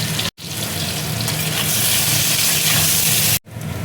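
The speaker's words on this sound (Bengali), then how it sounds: "এবার আমি কচুগুলো ভেজে নেব।" Taro (kochu) pieces fry in hot oil in a pan with salt and turmeric, a loud, steady sizzle that runs continuously, broken only by two brief silent cuts.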